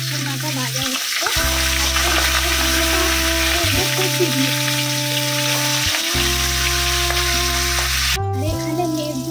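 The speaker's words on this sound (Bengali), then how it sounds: "তো এই মাছের মাথা ভাজা হচ্ছে" A fish head fries in hot oil with a dense, steady sizzle and crackle, close and loud, over a droning low hum that switches on and off in stretches.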